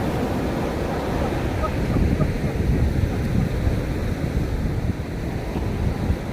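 Sea waves at the Kanyakumari sunrise point break in a continuous rough wash, mixed with gusty wind buffeting the microphone, with no clear pauses between swells.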